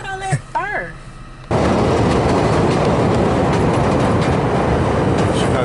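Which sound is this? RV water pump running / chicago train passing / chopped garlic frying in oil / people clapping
chicago train passing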